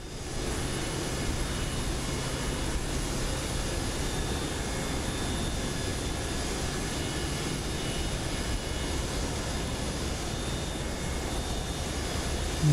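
Engines of an FSS 727 airliner in Microsoft Flight Simulator 2024, a steady loud jet roar with a broad rumble and faint high whine, continuous and unchanging throughout with no voices.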